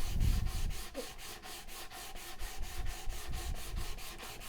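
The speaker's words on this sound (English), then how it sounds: "I'm kind of able to use it to sand here, and then it'll help reveal some of those flat spots" Rhythmic hand sanding of a wooden stick for a tall-back stick chair with a flexible sander, steady back-and-forth rasping strokes repeating evenly, close and moderately loud with no talk.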